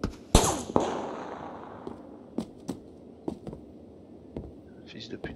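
A sharp, loud sniper crack in PUBG is followed by a string of fainter, distant gunshots scattered over the rest of the span, with a low voice murmuring in between.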